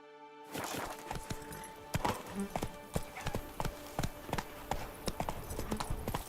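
Rhythmic clip-clop of a horse's hooves at a steady gallop in the Witcher 3 video game, repeated sharp thuds running continuously and fairly close, with no talk over them.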